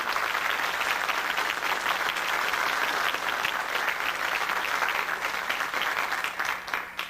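Sustained, dense applause fills a hall at an international ufology congress in Capilla del Monte, a steady wash of many hands clapping at even loudness for several seconds, easing only slightly at the end, with no speech over it.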